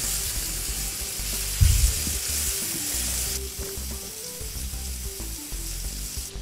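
Veal saltimbocca slices frying in butter, a bright steady sizzle with a sudden louder burst early on, then continuing hiss alongside light clinks and scrapes of a utensil in the pan.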